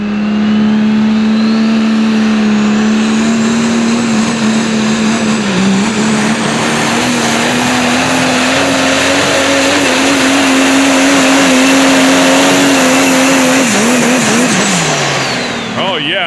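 A super stock diesel 4WD pulling truck roars loud and close at a truck-pulling track, its engine climbing and holding high revs for a sustained pull, with a commentator talking over it.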